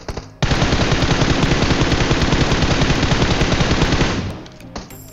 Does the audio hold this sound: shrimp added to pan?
no